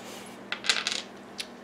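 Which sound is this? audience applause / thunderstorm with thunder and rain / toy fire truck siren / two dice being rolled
two dice being rolled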